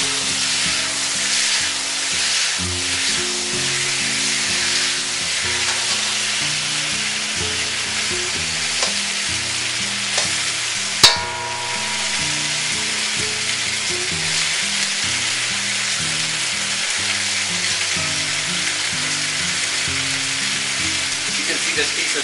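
Cubes of ribeye steak stir-fry in a pan on a home stove, giving a steady, close sizzle throughout, broken once by a brief sharp clatter.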